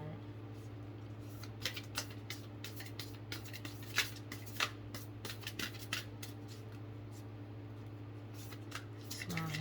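Tarot cards are shuffled and drawn from a deck at close range, giving soft irregular riffling and flicking sounds in quick bursts over a faint steady background hum.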